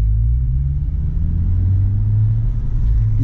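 A new car idles in sport mode with a low, steady engine rumble heard up close from inside, the tone shifting slightly near the end.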